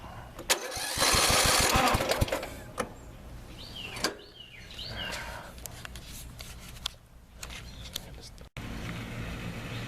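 An old lawn mower engine, run without choke after carburetor work, sputters and turns over, with rattling bursts and uneven running under intermittent talk.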